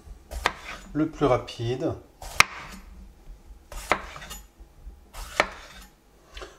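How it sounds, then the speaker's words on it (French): A knife chopping bell peppers for a pan-fried vegetable medley, several sharp, spaced cuts against a board in an irregular rhythm, with someone talking between the strokes. "Pour découper les poivrons,"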